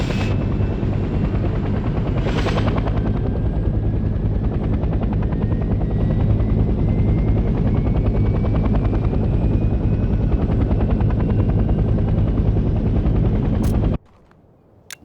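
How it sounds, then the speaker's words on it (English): A transport helicopter in the video game Hell Let Loose: Vietnam gives a loud, continuous rotor thrum and engine roar close by, with a brief whoosh early on, then cuts off abruptly near the end. "let's redeploy next to a transport helicopter"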